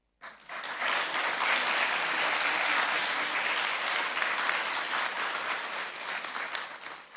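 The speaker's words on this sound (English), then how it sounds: "Let's appreciate them with a round of applause." Sustained applause from a sizable audience at a public talk, starting abruptly, holding steady for several seconds, then thinning toward the end.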